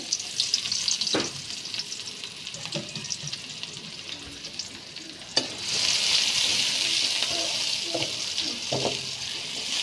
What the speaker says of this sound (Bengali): মাছ ভাজির তেলে পেঁয়াজ কুচি, পেঁয়াজ দিয়ে দিলাম